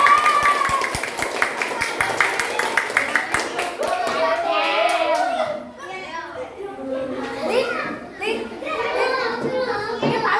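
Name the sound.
classroom clapping for group 2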